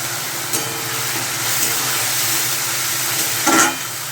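Fish head curry with rice sizzles in a pan as a little water is added, a steady close hiss that flares into a brief louder burst near the end.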